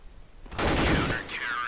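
A sudden loud burst of rapid gunfire rings out in Counter-Strike on the de_dust2 map during a competitive esports match, sustained for about a second with a ringing tail.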